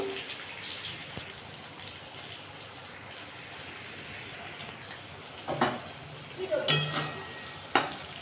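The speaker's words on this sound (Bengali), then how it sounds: "কাঁকরোলটাকে ভালো করে একটু ভেজে নেব" Bitter gourd (kakrol) frying in a pan, making a soft continuous sizzle with occasional stirring scrapes and a few louder clinks toward the end; no talking.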